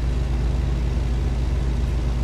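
Low, steady diesel drone of a Kenworth W900 truck engine in the American Truck Simulator game, a constant heavy rumble with no variation over a couple of seconds.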